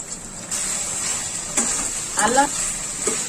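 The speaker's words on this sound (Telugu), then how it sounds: "అల్లం వెల్లుల్లి పేస్ట్ ని కూడా పచ్చి వాసన పోయేంత వరకు వేయించుకున్నాము" Ginger garlic paste fries with browned onions in a pan for paneer biryani, giving a steady soft hiss broken by a few stirring scrapes, with a voice speaking throughout.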